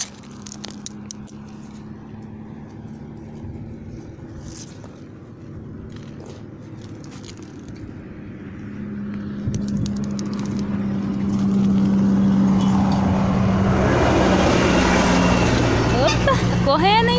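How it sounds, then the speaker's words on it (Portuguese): A car approaches along a road beside an embankment, its engine and tire noise growing steadily louder over a low background rumble, with faint voices nearby. "Tá vindo um carro. Tô escutando barulho."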